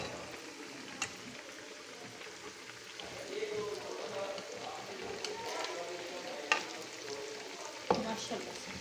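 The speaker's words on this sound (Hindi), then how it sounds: "इस तरह से सारे पकौड़े हम फ्राई करेंगे।" Besan pakoras fry in hot oil, a continuous close sizzle and crackle with occasional sharper pops and spatters as the batter cooks.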